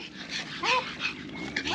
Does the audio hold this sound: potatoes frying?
no